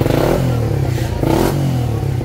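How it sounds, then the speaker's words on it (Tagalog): Motorcycle engine running rough with a low-pressure fuel pump, sputtering and cutting in and out with popping bursts through the exhaust, loud and close for the whole stretch with no talk. "Putol-putol, pumuputok yung tambutso mo."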